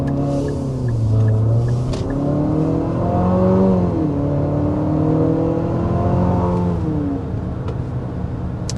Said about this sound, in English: That was a sport mode acceleration, just to test that out.